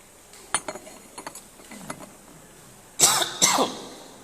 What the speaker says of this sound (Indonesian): Udah banyak ceramah, maka batuk Pak.